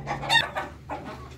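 A hen clucks inside a chicken coop while waiting to lay, giving a few short, close clucks in quick succession with a brief pause between bursts.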